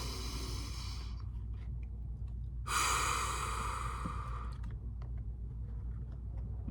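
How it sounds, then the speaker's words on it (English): A single deep breath drawn in slowly and then let out, close and soft, over a low steady background hum. "let's take another deep breath"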